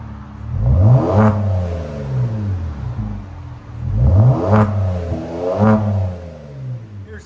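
Three separate bursts of a V6 engine being revved through its exhaust, each a sharp rising snarl that drops away, loud and close, with idle rumble between the blips and no voices.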